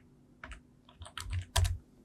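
Quick bursts of key clicks on a computer keyboard, several short clusters of close, crisp taps separated by brief pauses while a Python program is entered, with no talking.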